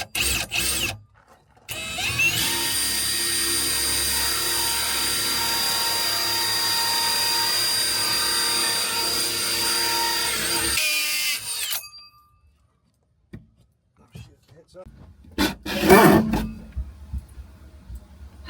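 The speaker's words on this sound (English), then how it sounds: "You drilled a hole in our RV." Power drill boring a hole in the wall of a Brinkley RV during a battery power upgrade, with a loud sustained whine for about nine seconds and then a pause, followed by a shorter burst of rattling.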